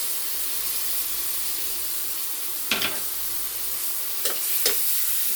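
Onion paste, tomato paste, chilli and spices fry in a pan with a steady hiss and sizzle, broken by a few brief scraping stirs of a spatula.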